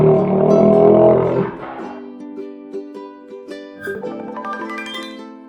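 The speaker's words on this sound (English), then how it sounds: "An alligator sounds like this." An alligator gives a deep, rumbling roar-like bellow for under two seconds, loud and close, followed by quieter, thinner tonal sounds.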